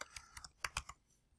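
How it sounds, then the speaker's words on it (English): Quiet keyboard typing, a quick run of about eight crisp key clicks in uneven rhythm, close by, then trailing off into near silence. "having trouble typing the word switch today"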